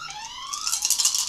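An alarm in a video game, a bright electronic tone that sweeps upward and then gives way to a pulsing, warbling siren-like wail, loud and close with no talking.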